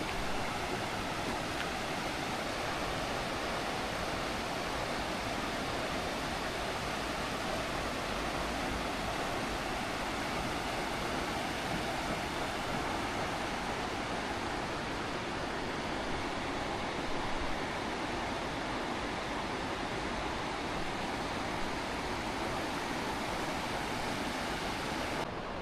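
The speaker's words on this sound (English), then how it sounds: "hearing the sounds of the water" Steady, dense rush of falling water at Snoqualmie Falls, Washington, loud and continuous throughout with no breaks and no voices.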